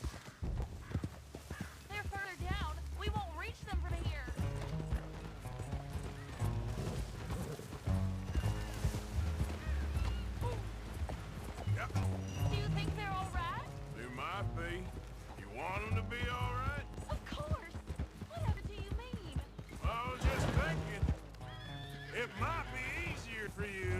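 Horseback riding in Red Dead Redemption 2, with steady hoofbeats under continuous spoken dialogue, a horse whinnying several times, and a music score playing throughout.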